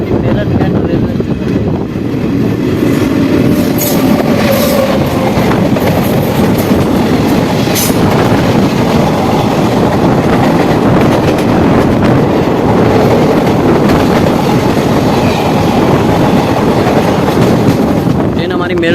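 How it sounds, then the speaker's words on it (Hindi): The Delhi Haridwar Express rolling along after leaving Meerut City Junction: loud, continuous rumble and rattle of the carriages with rhythmic clickety-clack over rail joints and strong wind buffeting, heard close from on board. "अपनी ट्रेन मेरठ सिटी जंक्शन से भी निकल चुकी है"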